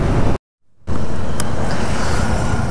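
A Kawasaki motorcycle riding fast on a highway: a loud, steady roar of engine and wind rush that cuts out briefly near the start, then resumes just as strongly.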